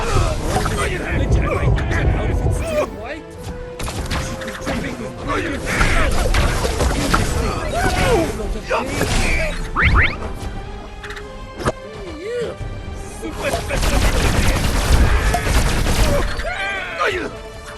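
Gunfire and crashing destruction from the game Destroy All Humans! 2: Reprobed, with bursts of shots, smashes and mechanical clatter layered over game voices and effects, loud and busy throughout.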